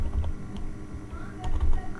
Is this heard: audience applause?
no